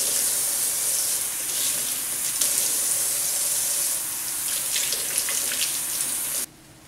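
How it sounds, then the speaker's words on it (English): Tap water runs steadily into a sink while lettuce is rinsed under it, a close, even hiss with slight splashing changes, then the flow cuts off abruptly near the end. "just rinse off our lettuce"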